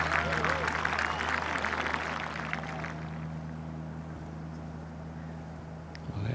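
A golf gallery at the final round of the Open Championship roars and applauds, a loud burst of clapping and cheering that fades to a lower murmur, with a commentator speaking over the crowd.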